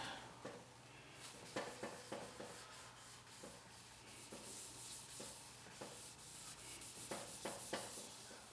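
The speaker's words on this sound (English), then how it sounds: "I've just rubbed it in for about 10 minutes or so, just keeping it wet" True Oil finish being rubbed by hand into a custom guitar body, heard as soft, repeated rubbing strokes with faint scuffs and taps, close and quiet, with no voices.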